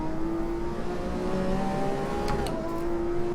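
In the racing game Assetto Corsa, a Lamborghini Aventador SV's V12 engine howls under steady acceleration, a loud sustained whine rising in pitch with a brief shift near the end, with no voices.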